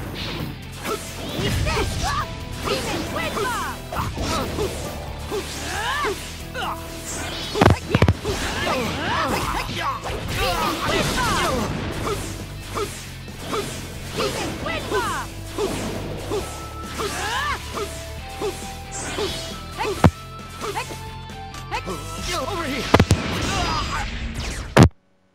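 Demon Twin Bomb attack in the anime fighting game Naruto Storm Connections, with repeated sharp blasts, whooshes and smashing impacts over dense game music and effects, loud spikes scattered throughout the busy battle.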